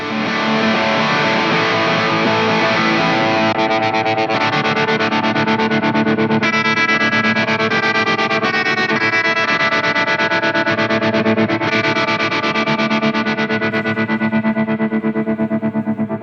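An electric guitar plays through a pulsing tremolo effect from a Donner Arena 2000 multi-effects unit, its chords wavering rhythmically in volume, sustained and loud throughout with a touch of distortion.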